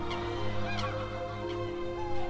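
Barnacle geese and swans calling across marshland near a river at the Slimbridge wetland reserve, a steady mix of overlapping honks and fowl calls with a constant background of distant birds.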